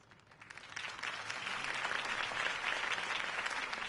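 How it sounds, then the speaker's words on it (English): Steady applause from a crowd in Batman: The Telltale Series, swelling in the first second and then holding as a dense, even clatter of many hands clapping. "could have heard that applause"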